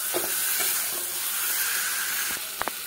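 Potol and egg curry being stir-fried dry in a pan, a steady sizzle and hiss throughout with soft spatula scrapes and a couple of sharp clinks near the end, no voices.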